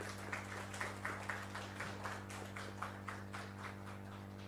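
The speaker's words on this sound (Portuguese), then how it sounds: "Salva de palmas para o Thiago." Scattered, rhythmic clapping from a small audience at a business panel on corporate-startup relations, quiet and distant over a steady electrical hum.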